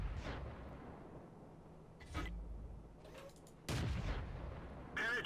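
Tank cannons fire in World of Tanks, a British Matilda Black Prince among them, with several loud broadband blasts spaced through the battle, the last rounds sharper and louder against a steady low rumble.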